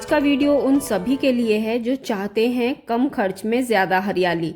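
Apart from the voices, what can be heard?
No everyday noise stands out behind the speech.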